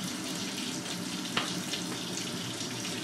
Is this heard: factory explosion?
no